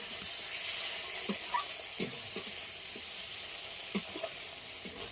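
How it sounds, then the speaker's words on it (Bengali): Chopped tomato frying with onions in a pan for a restaurant-style chicken and mixed-lentil dal, giving a steady close sizzle with scattered sharp stirring clatters and no voices. "টমেটো পেঁয়াজের সঙ্গে খুব ভালো করে ভেজে নিতে হবে।"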